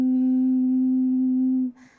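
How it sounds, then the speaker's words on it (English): A quiet, steady hummed tone from a single voice during a breathing exercise for vocal work, held evenly for about a second and a half before it stops and breathy room noise follows. "The next one we'll do is a quiet hum"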